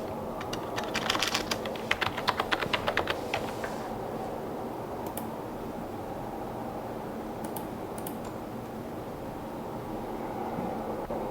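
Quick typing on a computer keyboard while entering a password, a short burst of close, faint clicks over a quiet room hum before silence.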